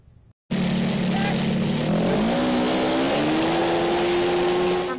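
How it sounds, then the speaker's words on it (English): A student-built Formula SAE race car from UNM's mechanical engineering program starts up and accelerates, its engine note rising in pitch as a loud sustained whine after a short quiet start, with a voice faintly underneath. "These are Formula One and IndyCar style race cars, built from scratch by mechanical engineering students in the Formula SAE program at UNM."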